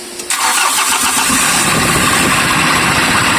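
An engine that misfires is cranked over and catches, then runs on with a steady, loud, rough roar close by. Nobody speaks.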